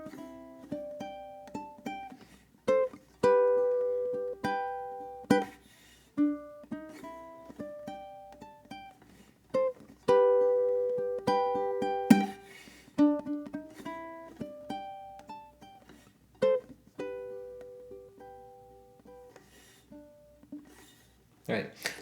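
Slow blues tune on ukulele, plucked notes and strummed chords moving through an outro that thins out and grows gradually quieter toward the end, no voices.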